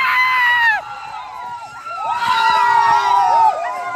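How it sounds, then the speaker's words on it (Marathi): Boys cheer at a village cricket match, a lively crowd of young voices shouting and whooping in two loud bursts with a short lull between them, close and excited. "पोरांचा जल्लोष."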